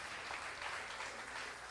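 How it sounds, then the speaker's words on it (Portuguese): A church congregation at a prophetic conference applauding, dense steady clapping from many hands filling the space, without pause or talk. "Dê um aplauso ao Senhor."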